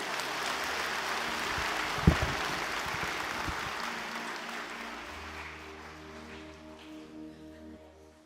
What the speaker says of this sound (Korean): 여러분 환영의 박수 해주시기 바랍니다.